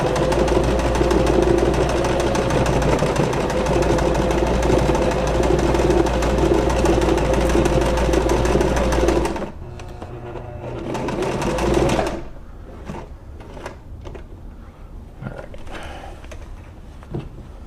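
A Kenmore 385 sewing machine stitches on a button in a steady, loud mechanical whir for about nine seconds, then slows and stops, leaving scattered clicks and light handling noises.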